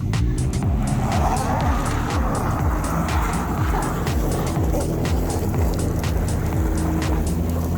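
A car with a dead battery is push-started uphill on gravel during a Gambler 500 off-road event, its engine and rolling noise droning steadily and loudly with repeated rising and falling tones throughout.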